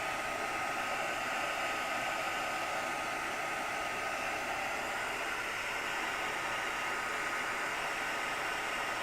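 A hair dryer blows steadily on wet ink from start to finish, a constant close, broadband whooshing hum with no pauses and no talk over it.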